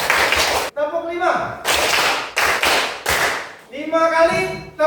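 Sharp claps come in short bursts from a class of pupils in an Indonesian classroom lesson, with brief spoken cues between them, near and loud.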